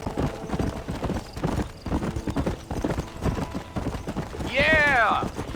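Horse hooves clip-clop in a steady gallop rhythm through the Old West world of Red Dead Redemption, running beneath conversation between riders, with a horse whinny rising near the end.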